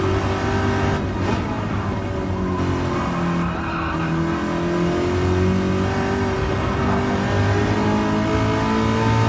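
Race car engine revving hard around a track, pitch sweeping up and down through gear changes with faint tire squeal in the corners, loud and continuous with no talk.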